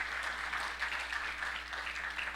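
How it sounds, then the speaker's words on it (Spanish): A church congregation clapping together, a dense steady patter of many hands filling the room with no breaks. "Dele palmas al Señor."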